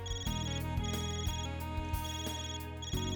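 A phone rings in the Trails through Daybreak video game, a repeating electronic ringtone with a steady tonal pattern that goes on throughout, clear and up front with no talk.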